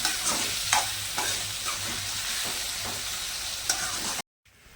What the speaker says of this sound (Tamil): மிளகாத்தூள், மஞ்சத்தூள், தக்காளி, வெங்காயம் எல்லாமே நல்லா வதங்கி வந்துடுச்சு.